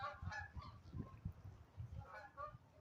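A flock of waterfowl honks repeatedly overhead, a rough overlapping chorus of calls that stays moderately loud and fairly near throughout.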